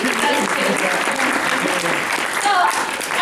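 A short burst of applause from a small group, steady clapping for about three seconds with faint voices mixed in.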